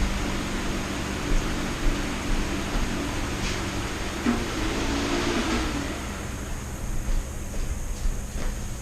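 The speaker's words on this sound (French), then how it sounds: "le bruit que tu entendais, c'est un ventilateur parce qu'il fait super chaud." An electric fan runs during hot weather, giving a steady broadband whooshing hum that fills the room continuously without pause or talking.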